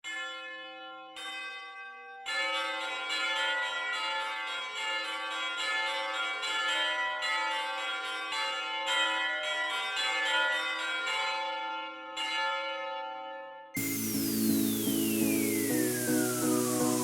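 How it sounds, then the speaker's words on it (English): Tubular bells ring out in a sequence of clear, sustained metallic strikes with long overlapping decays, followed by a brighter passage with a descending glide. "The correct answer is A, the tubular bells."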